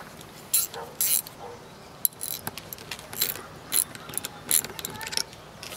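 A ratchet wrench tightens L-foot mounting bolts on a DIY rooftop solar panel array, producing close bursts of quick clicking in short runs with pauses between, plus a sharp metal clink, while someone talks.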